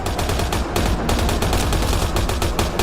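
Sustained rapid gunfire from a firefight in the video game Mass Effect Andromeda, loud and dense with overlapping automatic bursts and shots that barely pause.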